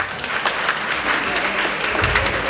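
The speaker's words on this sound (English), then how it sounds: "give him another round of applause" Crowd applauding at a Christmas gala and awards ceremony, dense steady clapping that carries on throughout with voices mixed in underneath.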